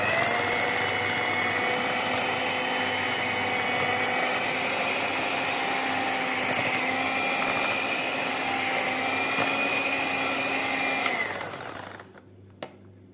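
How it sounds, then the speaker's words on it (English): Christmas fruit and rum cake batter is mixed with dark brown jaggery, making a continuous, steady motorized whir. It is loud and close and runs unbroken for about eleven seconds before cutting off into near silence. "and I'm going to mix it well again"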